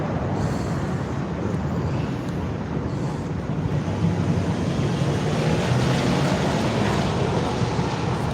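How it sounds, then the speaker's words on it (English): Strong wind in upstate New York roars steadily across the microphone, a continuous low buffeting rush with no pauses and no voices. "it's fucking windy today."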